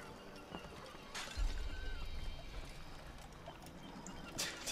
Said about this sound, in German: Das Pferd, das rennt auch über die Töpfe und macht die Töpfe kaputt